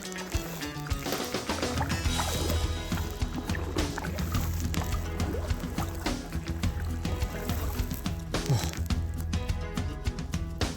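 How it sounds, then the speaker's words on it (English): Continuous loud rush of turbulent river water, like a waterfall, heard from a kayak, a dense roaring splash that never lets up, with sloshing and trickling close by. "Sounds like a bloody waterfall."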